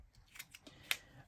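Scissors snip through a printed sheet of baseball player cards in a few quiet, scattered cuts, one crisper snip standing out near the end, with no voices.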